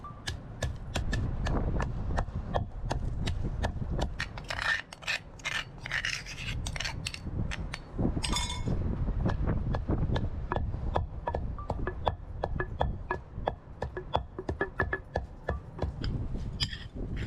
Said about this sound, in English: In the mortar and pestle, first add the roasted peanuts and grind them into a coarse powder.